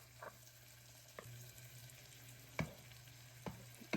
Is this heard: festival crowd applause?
no